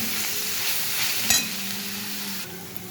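Ground spices with ginger garlic paste frying and being stirred in a pan, a steady close sizzle with scraping stir sounds and a brief clatter near the middle.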